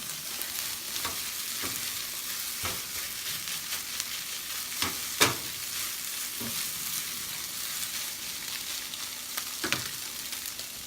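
Adobo seasoning is mixed through food frying in a pan, a soft continuous sizzle with intermittent spoon scrapes and taps, one louder knock near the middle, fairly quiet and close with no talking.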